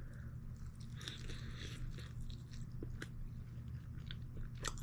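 Leftover fried chicken being eaten close up, with soft biting and crunchy chewing sounds in a few bursts over a steady low hum of room noise; no voices.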